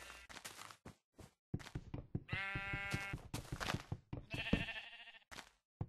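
A pink sheep in Minecraft bleating as it is struck, several loud, close wavering bleats broken by dull thumps from the hits, with short pauses between.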